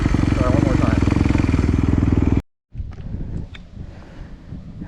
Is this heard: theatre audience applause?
no